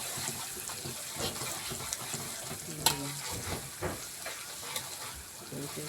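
Belacan shrimp paste sizzles and fries in a pan while being stirred, a steady crackling hiss with scraping stirs and a sharp clatter, close by, with a voice talking faintly in the background.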